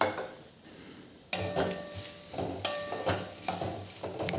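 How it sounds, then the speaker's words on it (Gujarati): Potatoes and pigeon peas roast in a hot pan with a soft ongoing sizzle, broken by sharp scraping stirs of a spoon at close range. "હવે આ બધું જ આપણે 5 થી 7 મિનિટ સુધી એમનેમ શેકાવા દઈશું"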